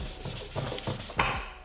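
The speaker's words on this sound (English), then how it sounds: "And this is sanding by hand." Steady hand sanding of a small plastic part with a rhythmic back-and-forth rasp, several strokes in quick succession, close and moderately loud, with no voices.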